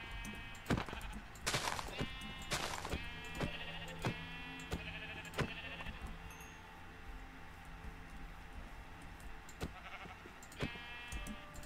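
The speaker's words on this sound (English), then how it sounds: "got some sheep over there" Several Minecraft sheep bleat on and off over a steady background with ticking and sharp clicks, the bleats moderately close and somewhat synthetic-sounding.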